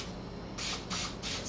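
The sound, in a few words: butter-flavored non-stick cooking spray sprayed on pizzelle machine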